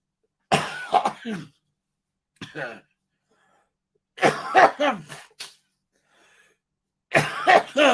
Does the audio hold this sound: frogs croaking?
no